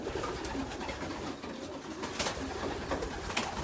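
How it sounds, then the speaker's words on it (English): Racing pigeons coo and scuffle inside a loft, with soft overlapping coos and sharp wing flaps and scrapes rising out of a steady bird chatter. "It's pigeon mania in here."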